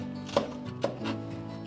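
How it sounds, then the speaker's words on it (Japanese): A kitchen knife slicing lengthwise into a green onion (negi) on a cutting board: a few soft, separate cuts and taps, close and fairly quiet. "縦に包丁を入れて開いて"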